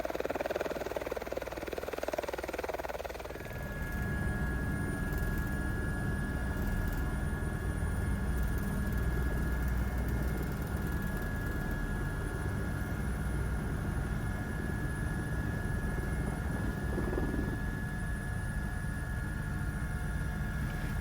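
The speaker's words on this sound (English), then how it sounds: "the chopper roared back into the valley to pick us up" Helicopter flying into a remote wilderness valley, a steady low rotor drone with a sustained whine that builds in after a quieter opening and holds fairly distant and even throughout.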